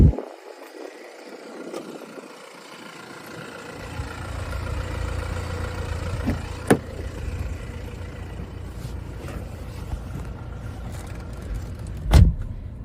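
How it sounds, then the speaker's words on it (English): An electric power boot on an automatic diesel car whirring open, a steady low motor hum rising after a few seconds and running on, with a couple of sharp clicks and a thud near the end. "As we approach the boot, we can see that it's electric."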